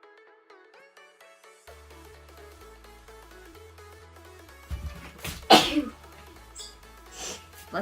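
A woman sneezes once, sharp and close, during a makeup session, with quiet background music playing underneath and a smaller breathy sound after it.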